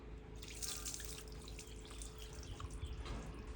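Water poured from above onto a dog's head and back during a bath, a faint, steady trickle and splatter running throughout with no talking.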